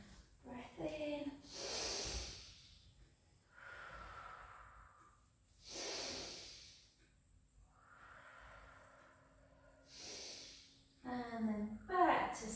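Slow, deep breaths in and out during a pilates rehab exercise, close and fairly quiet, with long airy inhales and exhales spaced a few seconds apart and a brief sniff near the end.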